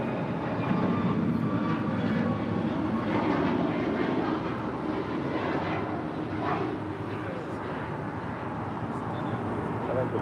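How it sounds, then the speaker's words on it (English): A Southwest Boeing 737 MAX 8 jet departs LAX for New Orleans, its broad engine roar steady and fairly close throughout, with faint talk beneath. "That was Southwest 1849 departing to New Orleans on a MAX 8"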